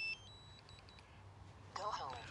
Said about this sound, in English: Now, you have to hold the button and you'll hear it start beeping.